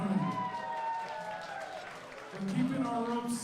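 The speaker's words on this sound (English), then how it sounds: "Let's give a round of applause to our referees" Applause from the crowd for the referees at a live pro wrestling show runs as a steady wash of clapping, heard under an announcer's amplified voice.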